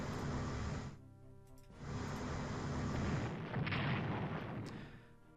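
Artillery-style explosions from a port being destroyed in the strategy game Strategic Command: World at War, heard as two dense, rumbling blasts with a short gap between them, loud and alone.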